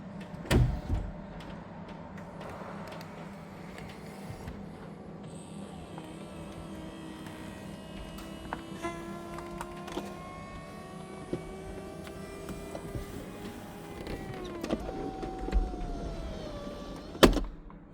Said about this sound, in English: And then I'm going to activate the roof to close.